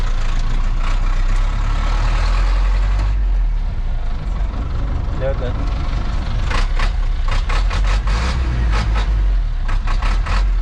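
Chrysler Fargo truck engine running during a transmission test, a steady heavy low rumble throughout with rising revs, mechanical clatter and occasional sharp knocks in the second half, no talk.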